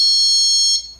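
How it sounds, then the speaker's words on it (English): A wireless window and door alarm sounds a loud, steady high-pitched electronic tone close by, holding for most of a second before it cuts off abruptly. "That's the chime,"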